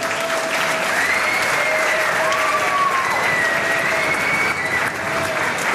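Loud, steady applause from a large crowd at a German anniversary evening fills the whole stretch, with some whistling or a voice-like tone drifting over the dense clapping.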